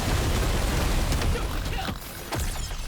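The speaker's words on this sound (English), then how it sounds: "One more explosion." Dense, continuous rumbling blasts from the mining game Deep Rock Galactic: Survivor fill the span loudly, with a few sharper bursts punching through the steady roar.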